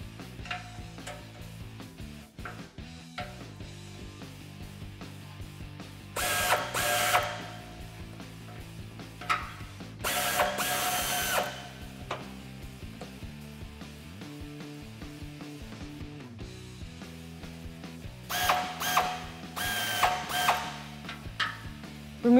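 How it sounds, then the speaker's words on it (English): A socket wrench ratchets in short clicking bursts while removing the rear muffler clamps with a 15 mm socket on a 2009-2018 RAM 1500 5.7L, separated by quieter handling noises. "we can remove the two clamps at the back of the muffler using a 15 millimeter socket"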